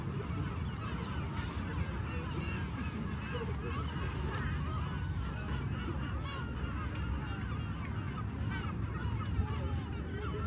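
Seagulls calling by the sea, a dense overlapping chorus of many birds heard steadily over a constant roar of wind and surf.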